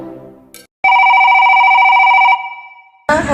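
A telephone rings loudly in one long, continuous warbling burst after a brief noise. The ringing fades away and a voice comes in at the very end.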